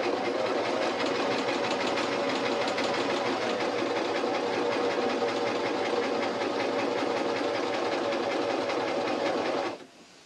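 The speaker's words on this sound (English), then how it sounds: "So I'm letting the machine do the gathering." A sewing machine runs continuously, stitching and gathering a ruffle on a T-shirt with a fast, even mechanical whirr and rattle up close, then stops abruptly at the end.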